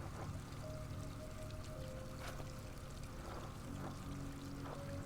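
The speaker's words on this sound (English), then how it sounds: "Is that running water I hear?" Running water in the video game GRIS, a steady soft wash of flowing water with faint tonal game chimes drifting over it, no voices.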